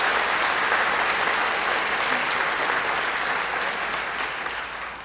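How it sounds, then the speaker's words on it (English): An audience at a middle school honor society induction ceremony gives a steady, full round of applause, a dense wash of clapping that holds evenly and then tapers slightly at the end. "Would like to begin this evening with a round of applause for Lady McGrath."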